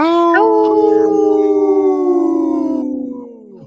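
A single long wolf howl rises in pitch, then holds a smooth, loud, sustained tone for about three seconds before sliding down and fading, with no other sounds.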